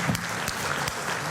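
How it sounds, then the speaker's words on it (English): Audience in a conference hall at an Arabian horse racing forum in Madrid applauds, a short burst of dense, even clapping that fills the room. "Can we give them another big round of applause?"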